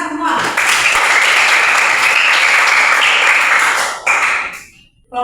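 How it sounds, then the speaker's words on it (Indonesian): Loud, close applause from a classroom of students after a group presentation, a dense burst of clapping lasting about four seconds, then a brief ragged tail and a quick drop to near silence. "Tepuk tangan semua."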